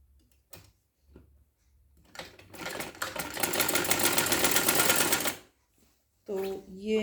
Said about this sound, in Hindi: मैं यहाँ से सिलाई करने जा रही हूँ